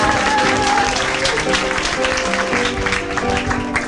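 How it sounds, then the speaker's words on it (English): An audience claps for a performer at a poetry slam, a broad wash of applause running steadily throughout, mixed with crowd noise and faint voices underneath. "Let's give her another round of applause."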